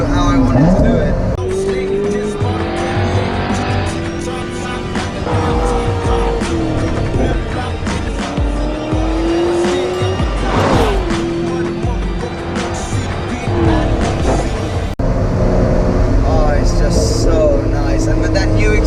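Lotus sports car with a new exhaust pulls through the gears on the road, engine note climbing and dropping with each shift, loud and up close, with a voice talking over it at times.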